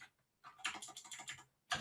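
Quiet, close typing on a computer keyboard: a quick burst of clustered keystrokes after a short pause, then one final isolated tap.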